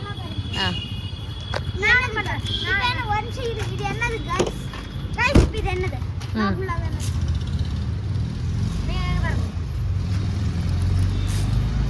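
A vehicle pulls up on a busy Bangalore street, its engine rumbling steadily beneath traffic noise, with horns and other vehicles around and several people talking nearby.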